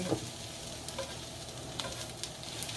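A spoon stirs red cabbage caramelizing in a hot pan for a Thanksgiving dish, a steady soft sizzle with a few faint scraping clicks, close and quiet.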